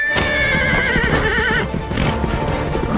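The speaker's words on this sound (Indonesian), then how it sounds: "kabur dengan menunggangi kuda" A horse whinnies loudly with a long wavering neigh while hooves clip-clop rapidly in a steady gallop, close and full, with no talk.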